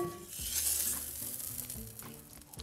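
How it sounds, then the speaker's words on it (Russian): Butter melting in a hot deep pot for a shrimp spaghetti sauce gives a soft, steady sizzle and gentle crackle, quiet and continuous with no voices. "первым делом я отправляю туда растапливаться сливочное масло"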